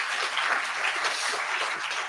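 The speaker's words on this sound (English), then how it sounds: "So give them one more round of applause for being here with this afternoon." An audience applauds at an afternoon community symposium marking the 60th anniversary of Mississippi Freedom Summer, a dense, steady round of many hands clapping that holds evenly loud throughout with no voices on top.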